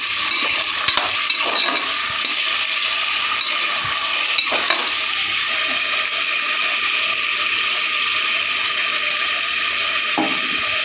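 Tomatoes sauté in a hot pan for sambar rice, giving a steady close sizzle and frying crackle throughout, with occasional scraping stirs and utensil clicks against the pan.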